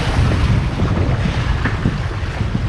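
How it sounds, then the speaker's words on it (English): Wind gusting over open water while a rider waits for enough breeze to rise onto a hydrofoil, a steady loud roaring rush buffeting the microphone with a continuous low rumble throughout. "we've got some wind coming"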